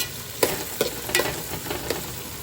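Onions frying in hot oil in a kadai, a continuous sizzle broken by several sharp stirring scrapes at uneven intervals, close and fairly loud, no talking.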